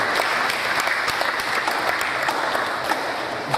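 Applause from an audience at a business and technology event in Nigeria: a dense, steady wash of clapping hands filling the room throughout.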